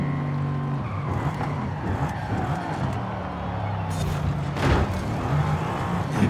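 In the racing game Forza Horizon 5, a car's engine drones while its tires squeal and skid through a turn, then a louder burst of noise near the end.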